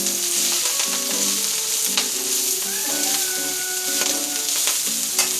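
Collard greens with bacon and onions fry in a skillet, a steady close sizzle with stirring scrapes and clinks as the greens are turned over, no talking.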